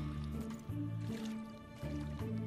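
Water being collected in the game Craft the World: soft liquid squishing and dripping sounds, faint and repeated, over a droning musical background.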